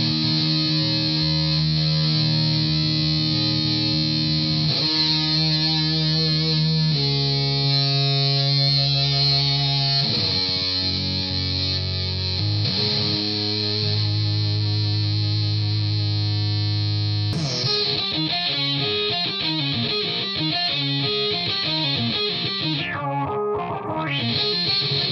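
Electric guitar played through a DOD Gonkulator ring modulator pedal with its built-in fuzz distortion, giving dense, buzzing, metallic sustained notes and chords that shift pitch throughout, loud and continuous with no talking.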